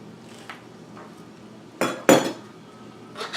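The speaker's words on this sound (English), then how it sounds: "I promise you this knife is sharp. It's just a very dense cabbage." A sharp knife forces its way through a very dense, firm cabbage on a cutting board, giving a couple of loud crunching, cracking bursts among quieter scrapes and taps.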